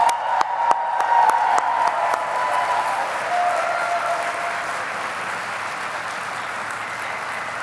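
Sustained applause from an award ceremony audience at a national student exposition, opening with a few sharp close claps before settling into a dense, steady wash of many hands that gradually softens.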